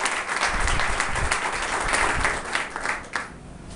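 A church congregation breaks into warm, sustained applause, a dense crowd of clapping hands close by that tapers off slightly toward the end.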